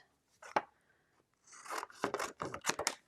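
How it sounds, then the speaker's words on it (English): Scissors cut through a paper banner during card making: a short snip, then a run of crisp, close snipping and rustling strokes of paper, heard alone with no talk. "I'm going to take some scissors and"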